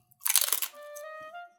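Crunching into a twice-baked shrimp rice cracker (senbei), a close, loud crisp crunch with crackly fragments, followed by a short voiced hum after the bite.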